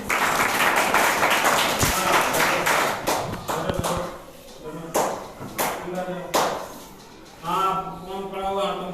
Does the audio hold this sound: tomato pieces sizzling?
no